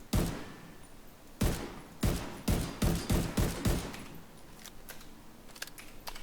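Rifle gunfire in The Division 2 video game: a single shot, then a quick series of about six sharp shots in rhythm, followed by fainter scattered shots, fairly close with no talk.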